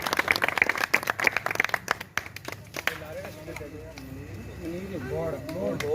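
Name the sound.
audience applause at ceremony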